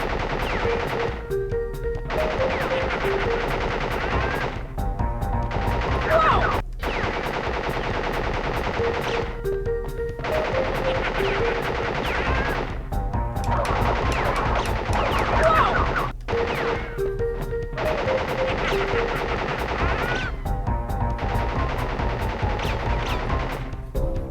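Rapid bursts of video game gunfire during a boss fight, loud and continuous with short gaps between volleys, machine-gun style fire dominating throughout.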